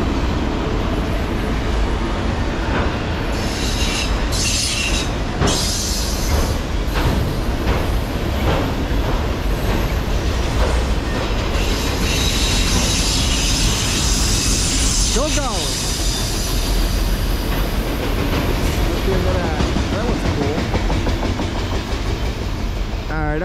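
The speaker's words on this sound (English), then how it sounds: "That's a long train." A long Norfolk Southern freight train hauling autoracks, led by a single engine, passes slowly with steady rolling rumble, clickety-clack of wheels and occasional squeals, loud and close for the whole stretch, while people talk now and then.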